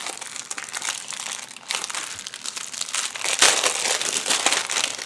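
Plastic packaging for a shaker card front crinkles and crackles as it is opened by hand, close and fairly loud in irregular bursts with brief pauses.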